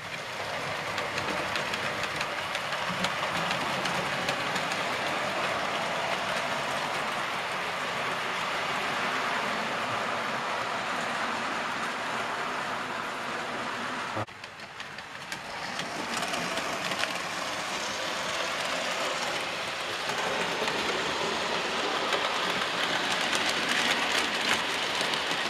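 A model railway train climbing an incline toward a junction in a loft layout, a steady close rumble and clatter of wheels on track that dips briefly midway then continues, with no talk.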